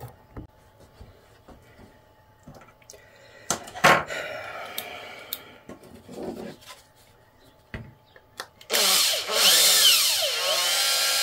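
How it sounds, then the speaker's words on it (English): A power drill driving in a bolt on cosplay armour whirs in a short loud burst near the end, after scattered clicks, taps and handling noises in a quiet room. "I should just drill this in."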